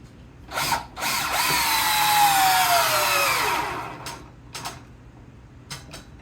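DeWalt impact driver drives a long, skinny screw in one sustained, loud whirring burst whose pitch sags as the screw bites, then stops. A few brief trigger blips follow.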